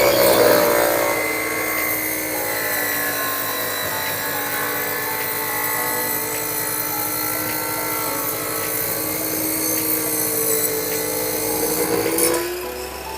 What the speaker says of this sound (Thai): ตอนนี้เราจะใช้โต๊ะที่เป็นโต๊ะเลื่อยวงเดือนนะครับตัด